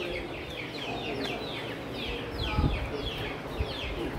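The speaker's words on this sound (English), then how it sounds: "Then you get chickens." Chickens at a small-animal auction cluck and chirp over and over, a busy flock of overlapping calls with a low hum of background crowd noise.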